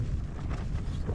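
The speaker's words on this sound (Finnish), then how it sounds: "vähän se tuuli höykkyttää telttaa, mutta ei tuo pahaa ole" Wind buffets a tent pitched in the wilderness during an autumn hike, making a steady, loud flapping rush that stays constant through the whole moment.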